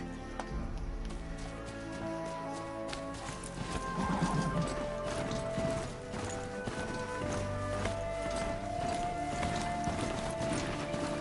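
A horse in the video game Horizon Zero Dawn trots with a steady, rhythmic clip-clop of hooves, loud and close, over game music, with a brief snort or whinny partway through.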